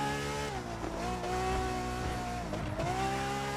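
A Ferrari touring car races in The Crew 2, its engine holding a loud, steady note that rises and dips with gear changes, and tires squeal faintly through corners.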